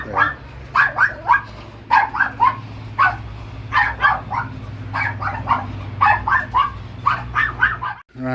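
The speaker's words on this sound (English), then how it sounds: "they also have yappy puppies" Yappy puppies bark in quick repeated bursts of high yips, close and loud over a steady low hum, with a brief thump near the end.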